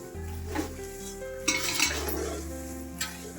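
A spoon scraping and clinking against a pan while phool makhana snack mix with flattened rice is stirred, a few distinct scrapes over a soft sizzle and steady background tones.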